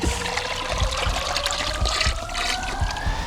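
Water leaks and trickles from a frost-free hydrant, a steady splashing dribble with a faint rising tone running through it, close and fairly loud.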